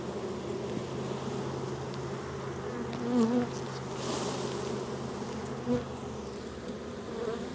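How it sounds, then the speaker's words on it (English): Dense, continuous buzzing of many honeybees around a hive fills the air, with a few louder passes as individual bees fly close. "There's a lot of bees"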